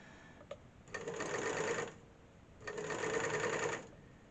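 Serger sewing machine stitching an elastic band onto fabric while trimming the fabric edge, running in two sustained bursts of about a second each with a short pause between, close and steady with no talking.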